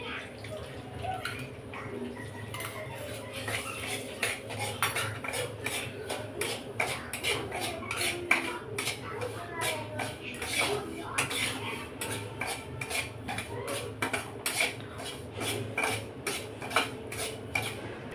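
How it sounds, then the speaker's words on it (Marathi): Mango sheera being made: semolina stirred and roasted in ghee in a pan, with steady clinks and scrapes of a spoon against metal, soft and continuous throughout. "तूप टाकून भाजत आहे."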